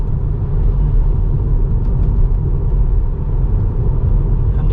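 A Tesla Model 3 cruises at highway speed into a headwind, heard from inside as a loud, steady low rumble of road and wind noise without pause.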